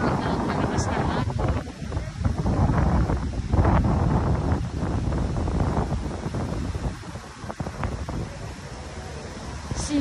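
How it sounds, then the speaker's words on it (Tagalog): Strong gusts batter the microphone beside Manila Bay while coconut trees sway, a loud continuous rush with a voice talking over it. "itong mga nyog na ito ay talaga namang dinuduyan po ng malakas na hangin"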